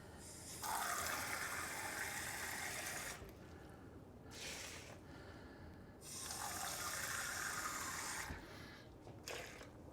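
One and a half cups of water pour into a pot in the kitchen: a soft, steady gush in two long bursts separated by brief pauses, fairly quiet and close, with no talking.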